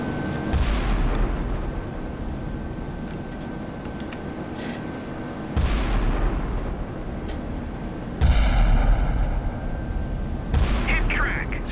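Battleship broadside gunfire in the naval combat game Sea Power, German battleships engaging HMS Malaya: several loud deep booms at intervals, each with a long rumbling tail over a steady low background rumble and a faint tone.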